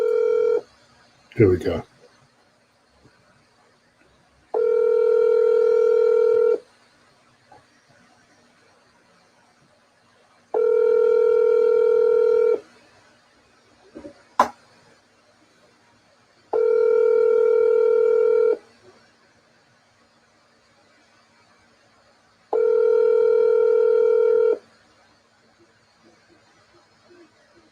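Telephone ringing tone repeats five times in an even rhythm, each buzzing tone lasting about two seconds with roughly four-second gaps, while a person speaks briefly near the start.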